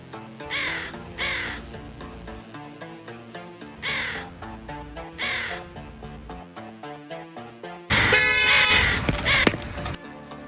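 Crows cawing repeatedly in short harsh bursts, close and loud, with a brief car horn or honk near the end.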